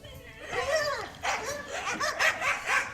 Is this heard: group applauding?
no